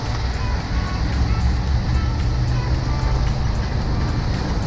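A VW bus drives with a steady, loud engine and road drone that holds throughout, as the driver works the gears with a CRC shifter and downshifts, without clear individual shift changes standing out.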